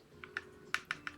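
Soft clicks of letters being selected on an on-screen keyboard in Animal Crossing: New Horizons, five quick, light ticks in an uneven rhythm over a low, steady hum.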